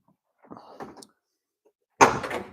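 The door of a 1977 Chevy Monza 2+2 race car opens with a soft metallic rattle, followed a moment later by a louder, sharper clunk.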